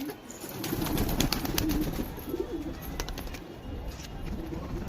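Several pigeons coo steadily nearby in rainy weather, soft rolling calls layered over a constant high-pitched hiss and faint rustling.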